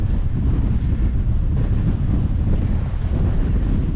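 Strong wind buffets the microphone in a continuous low roar at a hilltop above a wild campsite, fairly loud and steady throughout with no voices.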